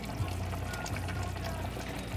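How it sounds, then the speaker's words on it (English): Cooked dal is poured into a pot of tiffin sambar, a soft, steady, close-up pour with a low gurgle that runs unbroken for a couple of seconds. "we're going to add in our cooked dal"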